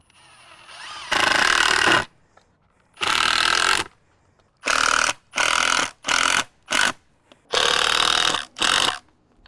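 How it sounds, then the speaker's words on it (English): Power driver running bolts into short pieces of a hinged hoop house frame over a raised garden bed, a series of loud close bursts of whirring, some long and some short, separated by quiet gaps. "Now I'm just going to bolt these short pieces in the same way that I did the long ones."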